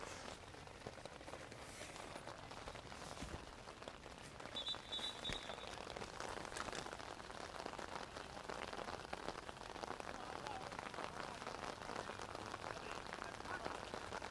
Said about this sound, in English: I'm sure you can hear the rain really coming down now